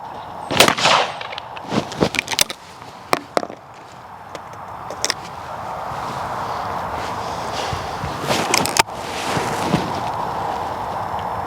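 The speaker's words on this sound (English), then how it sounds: "shooting with a trap gun, with a cheap trap gun, can still get you started in the road to DTL or the road to trap shooting." Shotgun blasts from a cheap trap gun at outdoor DTL trap shooting, several sharp loud reports in quick succession early on, then a pair more later against steady wind-like background noise.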